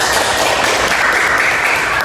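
A classroom of students applauding for a class at the end of a lesson, dense continuous clapping filling the room at steady loudness with no talk over it.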